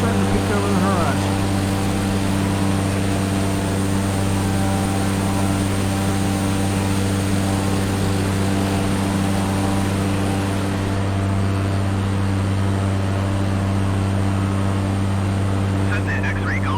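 A Cessna light aircraft engine drones loud and continuous in flight on a trip from Oakland to Burbank, a steady propeller hum with strong tonal harmonics filling the whole stretch without a break.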